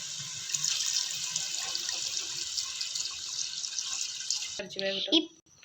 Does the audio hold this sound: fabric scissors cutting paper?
no